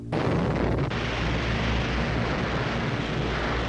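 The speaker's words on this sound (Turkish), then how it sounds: "Gözleri kör eden bir parlama, sonra kulakları sağır eden bir patlama." A nuclear bomb explosion's deep, continuous roaring rumble fills the clip, loud and sustained after a sharp onset.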